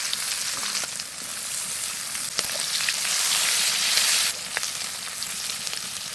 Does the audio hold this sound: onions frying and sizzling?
yes